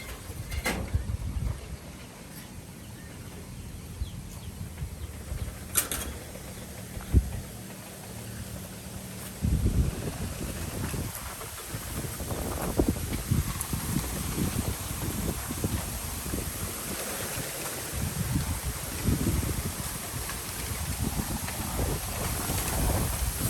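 Strong wind buffets a microphone outdoors, a steady broadband roar with rumbling low gusts that grow heavier in the second half, with no talk.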